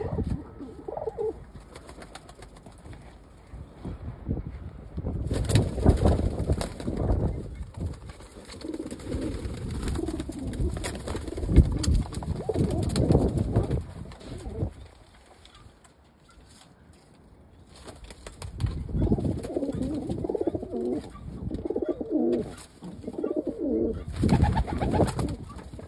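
White homing pigeons coo repeatedly in soft, low rolling calls, close by, with occasional rustling and a short quiet stretch midway.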